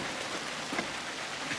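Steady rain falls and patters on surfaces outdoors, an even, dense hiss with no break and no voices over it.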